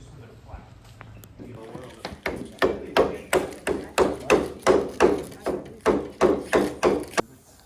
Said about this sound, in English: we're gonna hammer them just so they're flat.